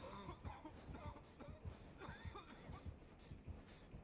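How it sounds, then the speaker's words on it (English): A survivor character in a multiplayer horror game coughs repeatedly, harsh and fairly faint, in a string of separate bursts spread across a few seconds with ambient game sound behind. "This coughing is so obnoxious."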